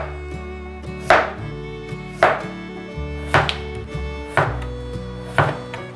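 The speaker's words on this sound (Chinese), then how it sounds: "把小黄瓜切斜片" A kitchen knife slices a washed, trimmed small cucumber on the bias, cutting against a board with six crisp, evenly spaced chops that are close and clear, with no talking.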